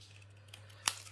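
A single crisp scissor snip through paper while trimming pieces for a handmade photo album, one sharp short cut standing out against a quiet room with a faint steady hum.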